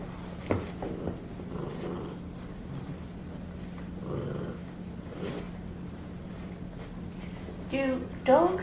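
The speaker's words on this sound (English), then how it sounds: "Even her little growl is filled with love." Dog growling playfully, low soft rumbling growls that rise and fade in short bursts, quiet and close, with a louder burst near the end and a person talking intermittently.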